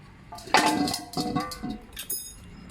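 Several sharp metallic clanks and scrapes as a leaking metal pan is pierced with a spike, each leaving a brief ringing tone, in an uneven sequence of hits.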